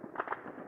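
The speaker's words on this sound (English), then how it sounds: "Gunfire echoes through many Afghan streets" Gunfire in Afghan streets, a few short sharp cracks with echo over a dull outdoor background, fairly distant and muffled.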